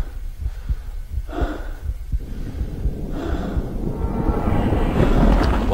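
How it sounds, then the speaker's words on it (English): Heavy breathing in the Half-Life Source video game, a sequence of close, airy inhales and exhales with gasping, snort-like bursts over a low throbbing hum that swells louder toward the end. "Why can they hear breathing?"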